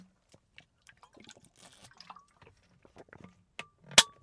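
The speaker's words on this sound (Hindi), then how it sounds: "एक सेकंड में थोड़ा पानी पी लूँ पहले" A person takes a few quiet sips of water during a pause in speaking, with small scattered mouth and liquid sounds building to one sharp, louder gulp or swallow near the end, close and alone.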